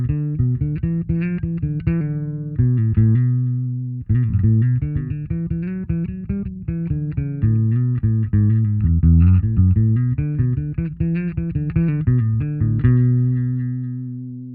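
Bass guitar played through an Ampeg SVT-VR amp simulator plugin, a warm, dark tone picking a melodic line up the neck with sustained, ringing notes, loud and alone.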